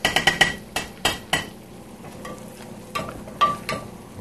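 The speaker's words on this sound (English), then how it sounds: "We give it a stir." A utensil knocking and scraping in a pan of melted butter and shrimp, a quick run of sharp clinks at first, then softer scattered taps over a faint sizzle.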